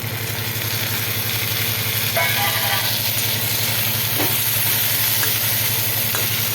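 Chopped tomato fries with onion, ginger and garlic in a pan, giving a constant loud sizzle with a low rumbling hum beneath and occasional scraping stirs, with no voices over it.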